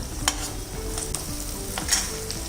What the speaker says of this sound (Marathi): आता व्यवस्थित परतून घ्यायचं आहे तेलावर जरा.